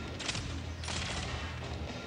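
Gunfire in the sci-fi shooter Shadowgun Legends sounds as two loud, close blasts, each followed by a noisy wash, over a steady rumbling game background.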